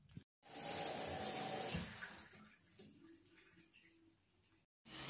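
Shower water streams steadily with a broad hiss for a couple of seconds, then fades to a quieter trickle before a brief gap and resumption.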